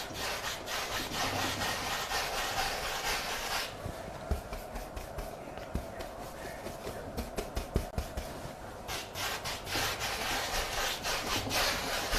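Big 2.5-inch paintbrush dragged in fast crisscrossing strokes over a surface, a steady rough scratchy brushing that runs continuously near and fairly loud, with brief quieter patches and no talking.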